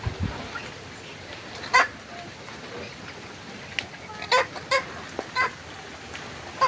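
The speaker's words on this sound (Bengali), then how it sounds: "মুরগি" A village chicken clucks in short bursts against a quiet outdoor background, several brief calls spaced across the scene with faint noises between them.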